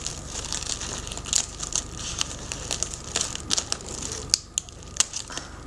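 Plastic wrapping is snipped and crinkled while a Valentine's flower box of roses is made, giving a steady, fairly quiet crackle broken by sharper cuts and rustles.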